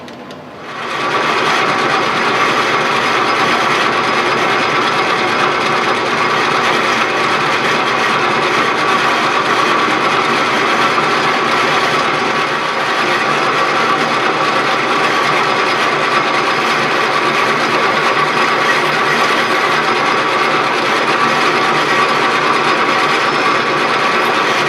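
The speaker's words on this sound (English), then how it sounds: "I have to drill a 5/16 hole" A loud, steady mechanical whir of a drill boring a 5/16-inch bolt through-hole runs continuously for a long stretch after a brief quiet start, without any voices.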